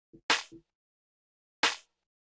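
A hard, cracky snare sample with a rim-shot-like snap hits twice, the first preceded and followed by short soft thumps, each crack bright and fast-decaying with silence between.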